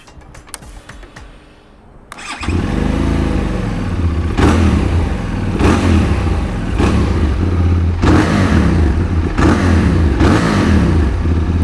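A QJMOTOR SRT600SX motorcycle's two-cylinder engine starts after a few quiet clicks, then settles into a loud, close idle broken by repeated sharp throttle blips and revs.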